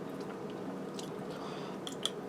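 Crunchy beef pot pie crust with filling, cooked in a Ninja Foodi, being chewed quietly up close, with soft steady mastication and a few sharper crisp bites near the end.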